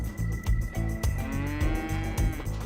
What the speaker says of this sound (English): Calvin's sister Bubby wrangles the cows into the chute.